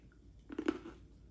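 A brief crunchy chewing burst, a couple of close, crisp bites of freeze-dried candy in quick succession, then quiet.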